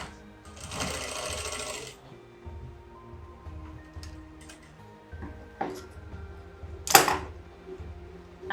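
A sewing machine stitches down the folded raw edges of a girl's skirt-and-blouse outfit, running in two loud, close bursts of rapid mechanical whirring with quieter handling sounds between them.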